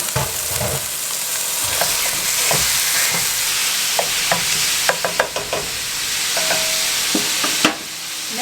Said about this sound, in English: when your pan comes up to heat, you're just going to add in your ground beef